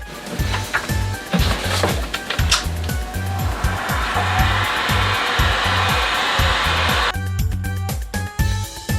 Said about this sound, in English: So I have a heat gun here for that purpose.